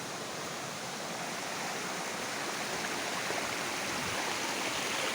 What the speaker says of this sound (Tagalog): Galing pa ng nagbaha sa umulan.